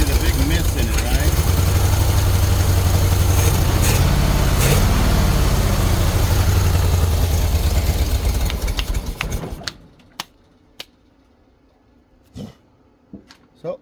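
A pink Jeep engine runs roughly with a big misfire, a loud uneven idle that chugs steadily for several seconds before cutting out, leaving faint clicks and ticks afterward.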